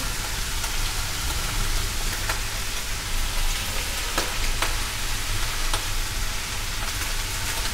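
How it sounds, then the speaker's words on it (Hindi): Sautéed chicken sizzles steadily in a hot pan as vegetables are added one by one for spring rolls, a dense, even frying hiss with a few sharp crackles and pops scattered throughout. "चिकन हमारा सौते हो चुका है, अब हम एक एक करके इसमें सारी सब्जियां डालेंगे।"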